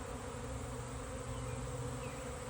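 A honeybee swarm fans at a hive entrance, a dense, continuous buzzing drone of many bees close up, steady and loud throughout, with no voices.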